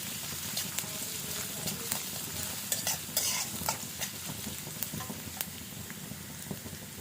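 Freshly chopped garlic frying in a little oil, crackling and sizzling steadily with scattered sharp pops and the scrape of stirring, fairly quiet and close, with no talk.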